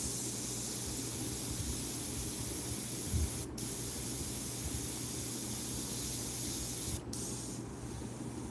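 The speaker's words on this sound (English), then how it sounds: "Now I'm going to just melt that paintbrush work in with the airbrush." An airbrush sprays paint onto a rose painting, giving a soft, continuous hiss of air at low volume with two short clicks along the way.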